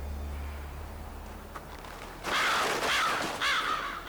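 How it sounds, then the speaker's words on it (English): Crows caw in the 2011 hunting video game Dangerous Hunts, three loud harsh calls arriving in quick succession over a low ambient hum, each call ringing with a nasal, wavering tone. "Oh no, birds. Not the birds."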